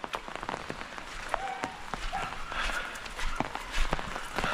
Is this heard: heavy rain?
yes